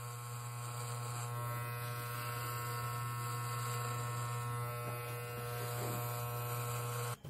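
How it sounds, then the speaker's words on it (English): Electric hair clippers run steadily at close range while shaving the scalp short for a hair transplant, giving a continuous buzzing hum with no talking until a brief stop at the end. "So we're going to use regular clippers just to delineate the area."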